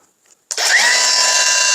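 A cordless brushless angle grinder with soft start and selectable speeds spins up abruptly after a short silence, then holds a loud, steady high-pitched whine with a rising tone as it reaches speed.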